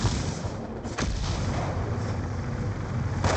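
A flash grenade goes off in the Black Ops II video game, a dense broadband blast with a sharp hit near one second and another near the end, loud against rumbling background gunfire.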